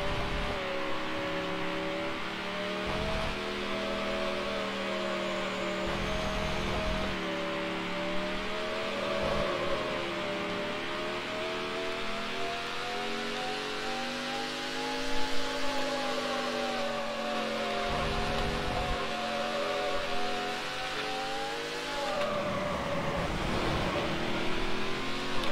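A race car engine in Need for Speed High Stakes (NFS4) drones and revs steadily for the whole stretch, its pitch rising and falling as the car accelerates and shifts, loud and continuous with no talk over it.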